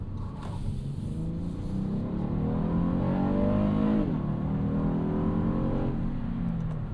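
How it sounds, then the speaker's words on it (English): Honda Odyssey 3.5L V6 VTEC minivan accelerating hard, its engine revving loud and steady up through the gear with a shift near the middle, tires spinning and fighting for grip, close and continuous with no talking. "When you hit VTEC, all bets are off. The tires are getting shredded."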